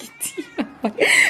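A cat yowls and growls angrily at a kitten in a run of short, harsh, rising cries. The calls end in a drawn-out snarl, heard up close.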